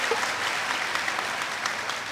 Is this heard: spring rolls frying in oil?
no